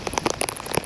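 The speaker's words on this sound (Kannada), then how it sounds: "ಜೋರು ಮಳೆ ಬರ್ತದೆ" Heavy rain falls at Talakaveri, a steady patter of drops striking surfaces close by, with no voices over it.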